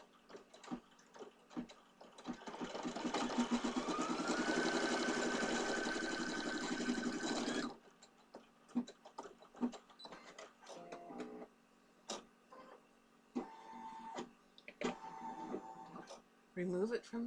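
An embroidery sewing machine stitches a leprechaun pot-of-gold design onto black fabric, a loud, dense, steady mechanical whirr lasting several seconds before it stops, followed by scattered clicks and handling noises.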